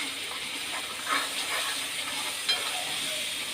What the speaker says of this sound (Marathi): फोडणी देते मी आता